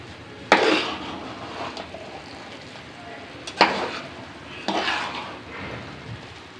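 A spoon stirs chicken curry and bagara rice in a pot, making three sharp scraping clatters against the metal, each fading into a softer shuffle, close and moderately loud.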